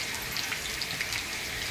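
Cumin seeds, dried red chillies, cinnamon, cloves, cardamom and bay leaves sizzle in hot oil, making a steady, dense crackle with fine popping that stays close and even throughout.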